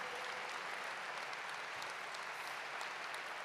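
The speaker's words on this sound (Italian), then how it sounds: "Un applauso" Audience applause at a Christmas concert, a continuous, even wash of many hands clapping, fairly faint and distant, with no voices over it.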